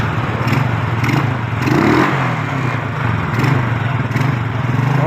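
A motorcycle with a faulty regulator rectifier revving after a kick-start, its engine loud and close with a rough, clattering idle that swells in repeated throttle blips.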